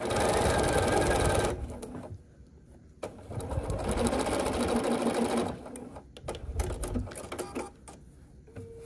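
A sewing machine stitches a quarter-inch seam along a line on a foundation paper pieced star quilt block, running in steady whirring bursts with short pauses between, close and fairly loud.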